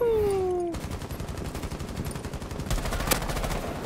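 Video game gunfire in Rainbow Six Siege on PS4: a short tonal sweep, then a steady crackle of rapid shots with one sharper, louder crack near the end.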